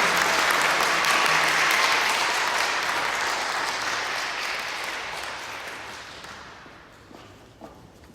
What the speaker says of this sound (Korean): 다시 한번 우리 박수로 권사님을 축하하겠습니다